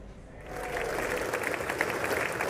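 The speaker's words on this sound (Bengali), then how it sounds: "তুমুল করতালি ও হর্ষধ্বনির মধ্য দিয়ে কংগ্রেসের যৌথ অধিবেশনে যোগ দেন মার্কিন প্রেসিডেন্ট ডোনাল্ড ট্রাম্প" A crowd in the US Congress joint session breaks into sustained applause and cheering as President Donald Trump arrives, a dense, steady roar of clapping.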